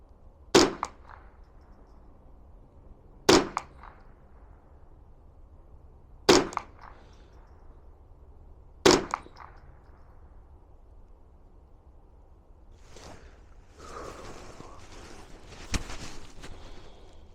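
Subsonic rifle rounds fired at targets: four sharp, moderately loud cracks spaced about three seconds apart, followed by quieter rustling and a softer impact-like thud.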